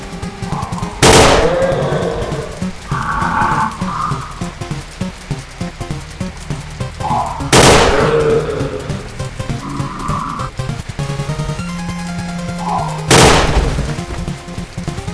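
Video game gunfire from an iron-sighted weapon, three loud, sharp single shots several seconds apart, with smaller clicks and tonal game sounds between them.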